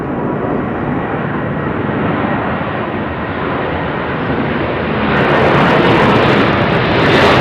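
Jet airliners climbing steeply away from Heathrow runway 09R give a loud, steady broadband roar that swells near the end of the clip, with no voices.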